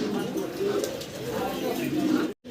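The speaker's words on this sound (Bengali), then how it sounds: "এক পেয়ার রেসার কবুতর দেখতে পাচ্ছি ভাইয়ের কাছে" A pair of racer pigeons coo softly at close range, low rolling calls running nearly continuously before a brief cutoff near the end, with a voice speaking over them.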